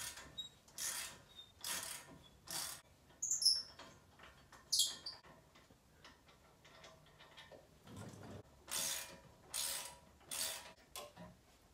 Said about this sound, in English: Now we're going to go after those 17mm caliper mounting bolts I showed you earlier.